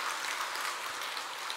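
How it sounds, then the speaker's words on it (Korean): A church congregation claps together in worship, a soft, even patter of many hands heard at a distance, continuous and without voices. "우리 하나님께 영광의 박수를 다 함께 올려드립니다."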